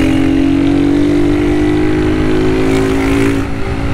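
A 2023 Honda Start motorcycle with an aftermarket Polimet exhaust, filter removed, roars loudly and steadily with a raspy exhaust note, its pitch climbing slightly before easing off near the end.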